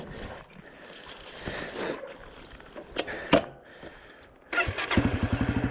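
A 2023 Honda CRF250F dirt bike engine is faint and rough at first, then fires up into a loud, close, pulsing putter near the end.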